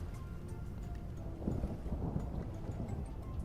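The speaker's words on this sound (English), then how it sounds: "I guess there's thunder. No rain though." Thunder in the survival game Vintage Story: a low, broad rolling rumble that swells around the middle and keeps grumbling steadily, with no rain and no talk.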